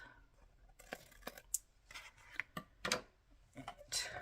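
Scissors snip through paper for a tag holder in several close, crisp cuts of uneven spacing, with someone talking softly between and over the snips.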